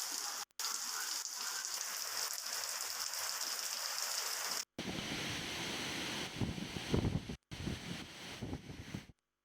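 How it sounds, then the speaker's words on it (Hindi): Heavy rain pours down amid strong winds in Telangana, a dense, loud hiss with gusty rumbling, broken by a few abrupt cuts between shots. "कई जगहों पर तेज हवाओं के साथ हल्की और तेज बारिश हुई"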